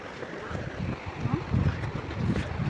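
Water rushing down the Namaste Jharna waterfall in Dharan, a steady broadband wash with gusts of wind noise buffeting the microphone, close and continuous throughout.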